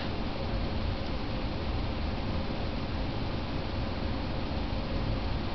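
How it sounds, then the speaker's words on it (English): A steady, even hiss of an air conditioner running indoors in a craft room, a constant faint broadband drone with no speech over it. "The air conditioner keeps kicking on."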